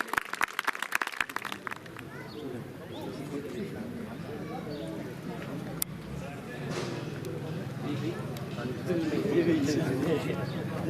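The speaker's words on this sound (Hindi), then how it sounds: "जोरदार तालियां बजाएंगे प्लीज।" An audience at a village panchayat event for a visiting MLA breaks into a short burst of loud clapping at the start, then it fades into a crowd murmur with people talking over it.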